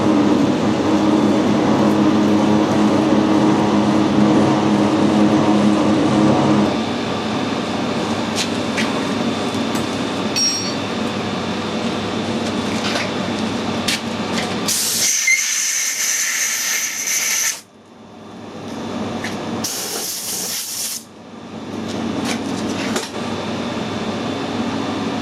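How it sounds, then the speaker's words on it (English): A 16mm slot drill in a milling machine cuts a hole in a drill adapter with a loud, steady whirring hum. Bursts of harsher high hiss break through near the end. "16mm slot drill in there, so it should put a nice"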